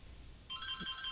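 A phone goes off partway through, its electronic ringtone starting suddenly as a bright, steady warbling tone over quiet game background, with a soft thud partway into the ring.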